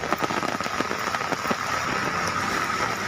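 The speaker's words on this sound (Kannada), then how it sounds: "ಅಂತ ಬೀಳುತ್ತಿರುವ ಮಳೆ" Heavy rain pours down in a steady, dense hiss, with scattered drop patter standing out near the start.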